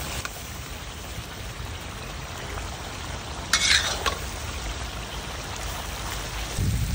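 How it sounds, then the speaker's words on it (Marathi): Lamb testicles stir-fry in a pan, a steady close hiss of frying with a brief louder scrape of stirring midway, alone without talk. "आपण आता याला असंच परतून घेऊ."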